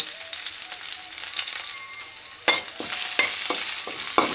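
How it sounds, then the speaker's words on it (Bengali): Crushed garlic fries in hot oil in a wok, a loud, close, continuous sizzle and crackle with several sharp stirring scrapes in the second half. "থেতো করা রসুনগুলো ভেজে নিব"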